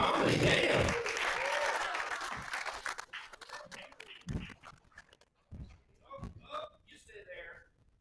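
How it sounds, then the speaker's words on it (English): Live comedy show audience applauding loudly for about three seconds, the clapping then thinning out and dying away into scattered sounds and a few voices. "give yourselves a round of applause for coming out and seeing some live comedy"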